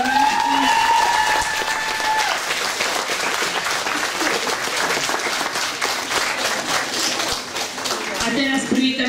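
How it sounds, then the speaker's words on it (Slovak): Loud, sustained applause from an audience at a Mother's Day celebration, dense clapping running throughout with a sung or sustained tone audible at the start and some voices near the end. "Poprosím ešte raz veľký potlesk."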